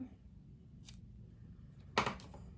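Scissors trimming 1/4 inch red liner tape: one faint snip, then a sharper, louder cut close by in a quiet room.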